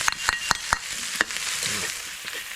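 Aromatic paste stir-fried with pork over low heat in a pan for galangal pork soup, a steady close sizzle broken by sharp, regular scraping clicks of a spatula.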